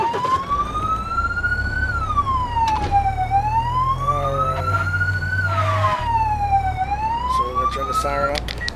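A police siren wails in a driving video game, rising and falling in long sweeping cycles over a low engine drone, loud and continuous throughout.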